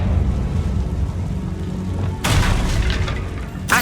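A Confringo fire spell in Hogwarts Legacy detonates as a loud, close booming blast, a sharp burst that starts midway and rolls on with crackling debris, followed by a second burst at the end.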